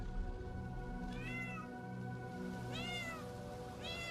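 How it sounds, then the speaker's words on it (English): A cat in the video game Honkai Star Rail meows three times, with short rising-falling calls over a steady humming game soundtrack. "Oh, I could barely see the cat."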